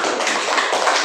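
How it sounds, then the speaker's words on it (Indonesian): Applause for group 5 in a school classroom, a steady dense patter of many hands clapping together at fairly close range through the whole short stretch. "beri tepuk tangan untuk kelompok 5"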